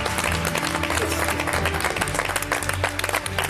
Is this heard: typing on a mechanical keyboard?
no